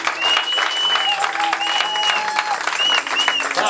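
A church congregation applauds and cheers for the Lord during a charismatic service. The sustained, fairly loud clapping continues throughout, with voices calling out over it.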